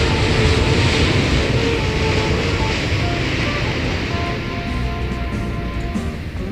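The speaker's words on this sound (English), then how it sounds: "That's an Asiana 777-200 ER coming in from Istanbul." An Asiana Boeing 777-200ER airliner arriving at Seoul Incheon Airport, a loud continuous broadband engine roar heard from a distance that stays steady and eases slightly toward the end.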